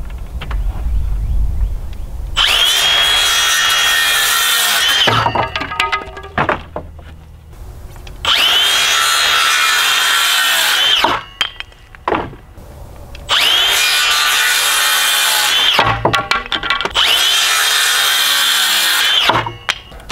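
A power saw cuts wooden boards for a cold frame in four long, loud passes. Brief pauses and handling clatter separate the cuts.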